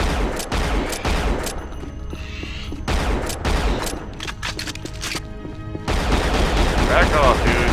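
Rapid gunfire from the first-person shooter Unreal, loud bursts of close weapon shots in quick rhythmic volleys, with brief pauses between strings of fire.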